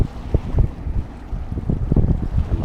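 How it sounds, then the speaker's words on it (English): Wind buffeting an action camera on a fishing boat off the Gulf Coast in winter, loud rumbling gusts in uneven bursts with no talk. "We'll see what it sounds like with all this wind blowing at me."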